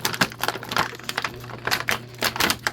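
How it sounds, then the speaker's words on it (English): Plastic packaging crinkles close to the microphone as a toy figure is unboxed, producing a rapid, irregular run of crisp crackles and rustles throughout. "Some of you like the satisfying sound, I guess, of the plastic crinkling."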